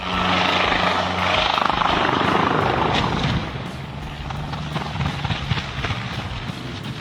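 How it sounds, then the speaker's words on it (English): Helicopter losing control in the air, its loud rotor and engine roar heavy at first, then dropping and turning rougher and more scattered as the craft falters. "This helicopter lost complete control in the air."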